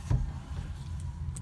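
A 2019 Toyota Avalon XLE sunroof motor runs with a low, steady electric hum inside the car, faint and alone, after a brief soft click at the start.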